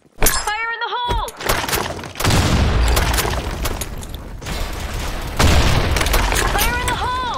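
A grenade blast in the online shooter Blackshot, heavy booming explosions with shattering debris cutting in sharply twice amid gunfire, a short shouted voice heard first.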